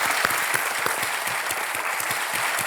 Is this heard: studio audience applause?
yes